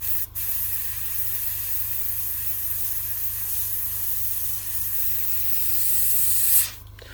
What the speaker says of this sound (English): that's what's in my airbrush now. It's a lot thinner.